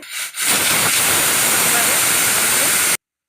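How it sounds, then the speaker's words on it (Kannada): A pressure cooker on a stove, cooking horse gram and dried fish curry, lets out a loud, sustained steam hiss for about two and a half seconds before stopping abruptly. "ಇವಾಗ ನಮ್ಮದು ಎರಡು ವಿಜಲ್ ಆಗಿದೆ"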